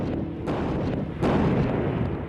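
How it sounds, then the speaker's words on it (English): Marine artillery barrage fired into Iraq at the start of the ground war, heard as a sustained, loud rumbling roar of heavy guns with a sharper surge of blast near the end and no voices. "Cannoneers of 111 Marines were given the order to launch the first artillery barrage into Iraq"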